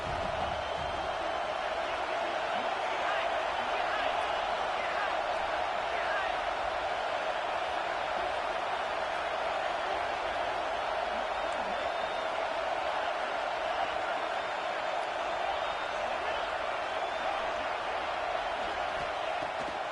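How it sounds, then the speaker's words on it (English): A stadium crowd at Saban Field roars in the College Football 26 video game on a third down, a steady wash of distant cheering running the whole time under play-by-play commentary. "The Tide crowd rolling noise down onto Saban Field on third down."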